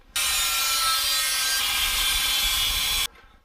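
Rails for a 1/14-scale lowboy semi trailer being cut: a loud, steady, rasping saw noise starts abruptly, runs unbroken for about three seconds, then cuts off, with no talking.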